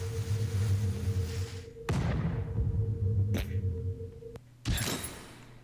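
A deep cannon boom in The Henry Stickmin Collection bursts out, followed by a second sharp blast and a final heavy explosion, each with a rumbling decay over low background music.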